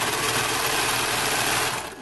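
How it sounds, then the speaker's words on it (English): Sewing machine running a continuous stitch along a seam on a fabric hair bow, a steady close whirring buzz for about two seconds that winds down at the end, with no talking. "we are going to run a stitch along that"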